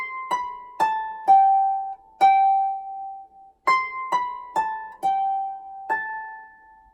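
Solo piano playing the opening two bars of a song, a gentle melody of single notes with a short pause midway, close and clear with no talk.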